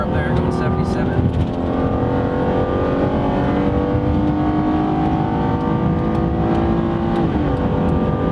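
A car speeds along a freeway at about 77 mph, tailgating another vehicle during a highway patrol ride; a loud, steady engine and road roar fills the whole stretch, with engine pitch shifting near the end.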